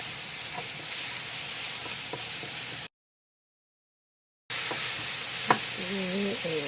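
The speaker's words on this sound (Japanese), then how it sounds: "お味噌を少しずつ入れながらよくかき混ぜていきます" Eggplant and pork frying in a pan with plum jam, with a steady sizzle and occasional stirring clicks, briefly cut to silence before the hiss resumes.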